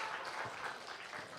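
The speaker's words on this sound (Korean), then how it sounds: "박수만 치고 전혀 안 움직이시고 있어" Church seminar audience clapping together in a hall, a steady, even wash of applause running through the short moment with no speech over it.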